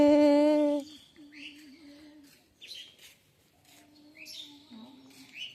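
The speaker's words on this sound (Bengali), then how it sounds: "এই পাখিগুলো খুব সুন্দর গান গাইতেছে" In a village, a brief loud tonal voice opens, then small birds chirp and tweet at moderate distance in short separate bursts against quiet surroundings.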